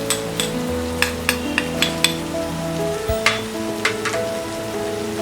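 Spices and moong sprouts mixed and fried in a pan on low flame, a steady soft sizzle punctuated by a regular series of sharp spoon taps and scrapes against the pan.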